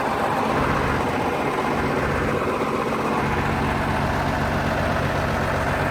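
Oliver 1655 tractor with front wheel assist pulling a three-bottom Oliver 365 plow, its engine a steady loud low drone under load, continuous and unbroken throughout.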